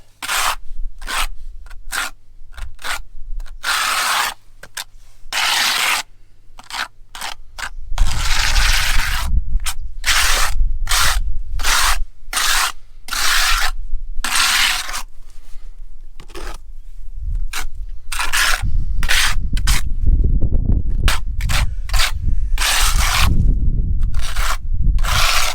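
Primer coating scraped and brushed onto the back of a porcelain patio slab, repeated rough rasping strokes, close and fairly loud, steady and continuous later on, no talking.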